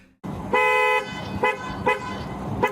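A car horn sounds in a series of honks: one long blast, then several shorter toots at uneven intervals, heard close over a low road rumble.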